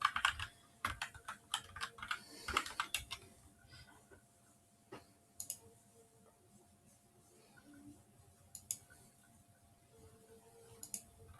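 Fingers type on a computer keyboard in quick irregular bursts of clicks, busiest at the start and then sparser, close and clear over a faint hum.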